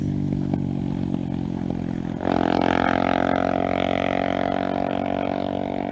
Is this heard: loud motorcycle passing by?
yes